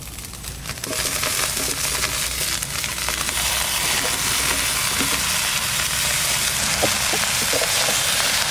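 Taro leaves (kochu shak) hit hot oil that already holds fried coconut and green chillies, giving a steady, loud, broadband sizzle that runs throughout with occasional soft stirring clicks.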